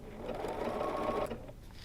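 A BERNINA sewing machine hums and buzzes quickly through a brief run of free-motion quilting guided by rulers, a steady motor whir that cuts off abruptly near the end, with no talk over it.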